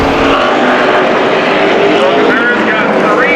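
Street stock race cars roar loudly at Havasu 95 Speedway, engines droning and rising in pitch as they slide through a turn, with a commentator talking over the constant noise.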